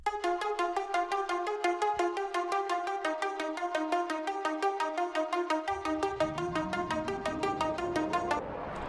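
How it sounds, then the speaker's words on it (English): Bright synth arpeggio for a pop pre-chorus plays a fast, steady run of repeating plucked notes, loud and alone, with a low bass layer entering near the end. "we are adding another very cool element, which is again an arpeggio"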